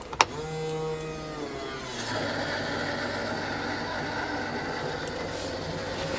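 Electric fuel pump priming on a 4G63-powered Mitsubishi Evo build: a sharp click, then a rising mechanical whine that settles into a steady buzzing hum, heard close up without speech.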